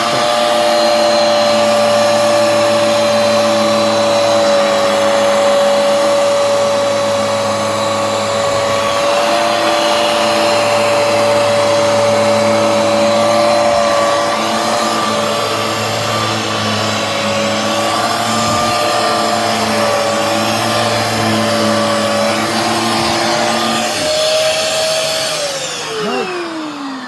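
A vacuum cleaner drones loudly and continuously close by as it tries to suck up moisture, its steady whine holding pitch for nearly half a minute before winding down at the end.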